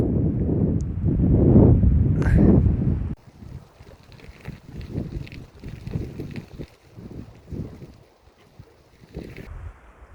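Cold headwind on a bike trip along a rocky uphill road in Spain, heavy wind buffeting the microphone in gusty roaring bursts, loudest at first and then fluctuating, with no speech.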